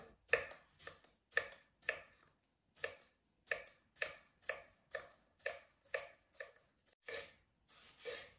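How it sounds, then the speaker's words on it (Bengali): A knife chops an unpeeled potato into small pieces on a home kitchen board, giving about fifteen crisp, evenly spaced chops in a steady rhythm, close and fairly quiet, with no voices. "একটা আলু বাখল সহ আমি ভালো করে ফলিয়া নিমু, একবারে যতটুকু আমার সম্ভব মিহি করার"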